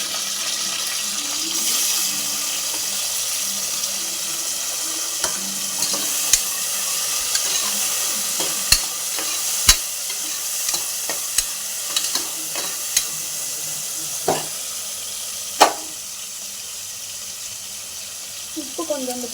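Onions and tomatoes sautéing in a pan with a continuous hiss of frying, punctuated by scattered spoon scrapes and knocks against the pan, with a voice heard faintly in the background.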